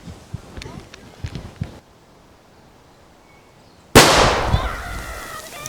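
An explosive charge set off in rabbit burrows at Port Campbell for rabbit control: after a few quiet outdoor moments, a sudden loud blast bursts out and rumbles into a fading roar with scattered debris.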